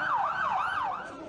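Ambulance siren wailing on streets in Lebanon after mass casualties, a steady up-and-down two-tone sweep repeating about every third of a second, loud and close, with no talk over it.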